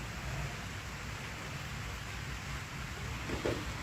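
Steady soft hiss of light rain falling, even and continuous throughout, with no voices.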